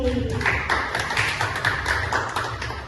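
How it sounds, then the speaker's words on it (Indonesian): An audience at a health talk on probiotics and prebiotics claps in a quick, busy patter while voices talk over it, the applause sitting close and fairly loud for a few seconds. "Berikan tepuk tangan untuk Bapak Messi."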